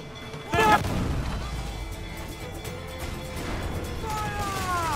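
Pirate ship cannons fire in a naval video game battle: one sharp loud boom with a crashing burst near the start, then a long rumbling tail under battle ambience, with a voice speaking over it.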